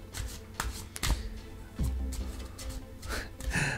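Angel oracle cards shuffled by hand, a steady crisp riffling and sliding of the deck with a few sharper slaps, close and alone.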